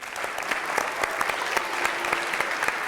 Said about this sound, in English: can we have a round of applause for Mrs. Bayliss?